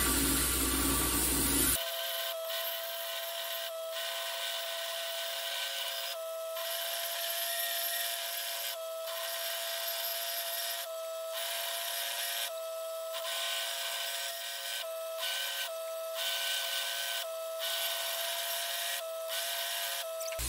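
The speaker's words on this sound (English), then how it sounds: "now we're just gonna grind the edges a little prettier" Grinder smoothing the edges of a steel anvil stand, a continuous harsh high-pitched grinding whine with a steady tone, pulsing at regular intervals as the tool passes along the metal, close and loud.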